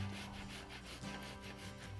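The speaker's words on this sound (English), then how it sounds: "grate my tomato down, creating a nice smooth tomato pulp" A tomato rubbed against a box grater into smooth pulp makes a steady, continuous rasping scrape, quiet and close, with no voices.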